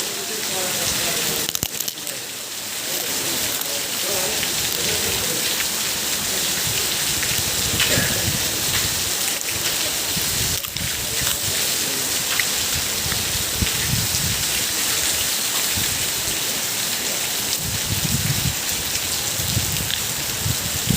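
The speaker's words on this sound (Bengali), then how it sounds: "এসে দেখি প্রচণ্ড আকারে বৃষ্টি" Heavy rain pours steadily at a truck terminal in a downpour, a dense continuous hiss of drops on surfaces close by, with a few brief louder splashes and faint voices under it.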